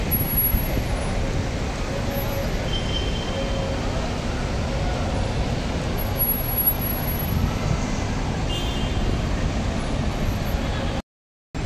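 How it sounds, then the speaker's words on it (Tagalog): Slow-moving road traffic in the Philippines, a steady broadband rumble of engines and tyres close by with a faint hiss of wind, continuous and unbroken, occasional brief tones over the drone and scattered voices mixed faintly underneath. "Guys, ito medyo mabagal lang ng traffic."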